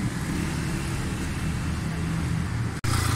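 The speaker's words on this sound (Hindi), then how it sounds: "गाड़ी मैंने स्टार्ट कर दी" A Hyundai Santro, a car with a misfire and ignition-wiring fault, idles while standing still after being started, giving a steady low rumble that runs continuously and loud throughout, broken only by a momentary dropout near the end.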